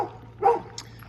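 A dog in a remote spot along the McCarthy Road in Alaska's Wrangell-St. Elias National Park gives a single short, moderate bark, followed by a faint yip, over a low steady hum.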